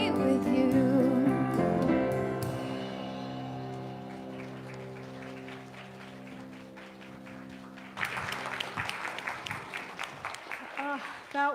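A church service congregation applauds a singer: a sustained musical chord fades out first, then a burst of clapping from the room breaks in near the end.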